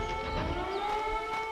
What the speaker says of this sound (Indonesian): yang Anda dengar ini adalah suara sirine peringatan aktivitas gunung api